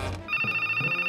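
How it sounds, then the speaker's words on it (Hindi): A phone rings with a steady electronic trill, pulsing rapidly and continuously after a short muffled thump at the start. "अच्छा है फोन आ गया।"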